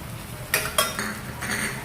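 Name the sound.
onion frying in a pan for misal pav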